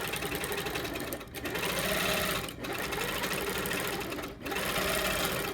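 A sewing machine runs a fast, continuous stitching chatter while free-motion quilting a travel stitch along a seam line, pausing briefly two or three times before resuming at a steady pace.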